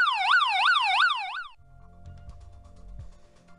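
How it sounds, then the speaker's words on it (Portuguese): A loud electronic security alarm siren wails in rapid rising and falling sweeps for about a second and a half, then cuts off, leaving low rumbling background noise. "aciona a sirene e deixa acontecer"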